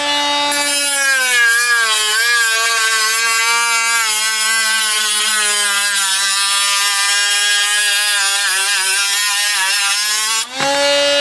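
A loud, steady high-pitched whine of a small HILDA mini angle grinder cutting through a printer, sustained for about ten seconds before cutting off abruptly.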